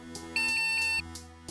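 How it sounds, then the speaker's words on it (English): Electronic alarm in a Ratchet and Clank visual novel video game: a repeating high electronic beeping tone that swells loud for about half a second, over a steady synthesized game music bed. "Suddenly, an alarm began to sound, and a red light began flashing across the room."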